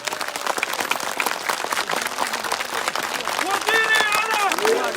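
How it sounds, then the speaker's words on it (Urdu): Crowd applauding and cheering for the engineer at a Pakistan Muslim League (N) political rally in Mardan, with dense clapping throughout, shouts and chanting voices rising near the end. "او د انجینر صاحب دپاره تالیه ووهئ ټول"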